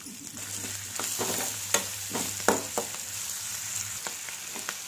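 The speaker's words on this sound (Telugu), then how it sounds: "ఉల్లిపాయ ముక్కలు అనేది కొద్దిగా కలర్ వచ్చేంత వరకు వేయించుకుంటున్నాను" Onion pieces and curry leaves frying in a pan for a brinjal tomato curry: an even, moderate sizzle with a low hum underneath and scattered spatula scrapes and taps.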